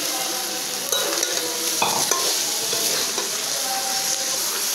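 Fish curry with pumpkin stir-fried in a pan, a steady close sizzle with scraping stirs and a few clinks of utensil on metal.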